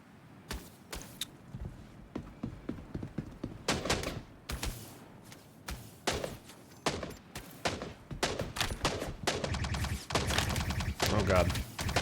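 Sniper gunfire in the video game Star Citizen, aimed at a distant mule vehicle, cracks out in repeated sharp shots and bursts, some clustered in rapid volleys, with game noise and voices mixed in.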